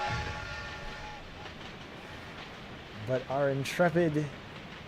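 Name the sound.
train running in video game Outlaws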